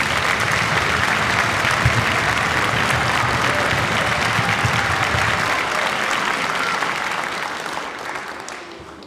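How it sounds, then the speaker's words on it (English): An audience at a middle school spring orchestra concert for seventh and eighth graders gives loud, dense applause for the honorable mention students, a sustained wash of clapping that holds steady and then tapers off near the end. "Let's give them a round of applause."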